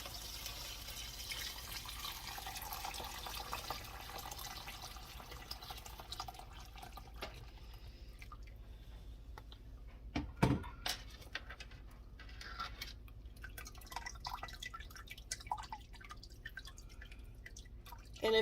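Hot turkey bone broth pours through a strainer with a soft steady trickle, followed by scattered drips and a few small knocks and clinks.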